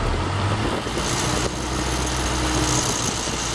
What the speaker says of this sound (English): I got her idled up pretty high because it won't.